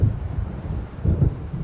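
Thunder of a coming storm in the video game Alan Wake, a low rolling rumble that swells twice, loud and continuous, with no talk over it.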